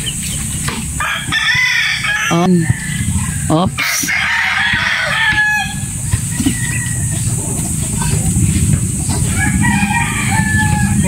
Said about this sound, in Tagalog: Ang manok din niya, ang dami oh.